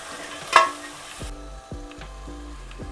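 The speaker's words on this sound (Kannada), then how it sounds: "ಚೆನ್ನಾಗಿ ಹುರಿಬೇಕು." Sambar ingredients for an avarekalu (field bean) saaru frying in a pan over medium heat, a low steady sizzle. Repeated scraping strokes of a spatula run under it, and one sharp clink lands near the start.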